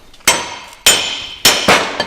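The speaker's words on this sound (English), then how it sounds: "put a lug nut on there, smack it with a hammer, and drive all those studs out" A hammer smacks a lug nut to drive wheel studs out of a hub on an old farm truck: four or five sharp, ringing metallic blows in an irregular rhythm, close and loud with no talking.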